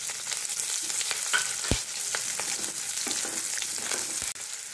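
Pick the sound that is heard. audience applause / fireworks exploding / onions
onions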